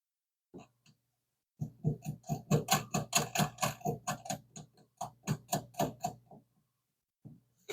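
Nut being tightened with a ratchet while a fusebox goes into a Hemi Duster, a fast run of regular ratcheting clicks in two bursts, close and clear, with no talk.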